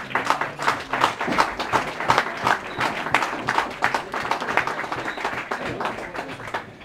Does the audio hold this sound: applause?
yes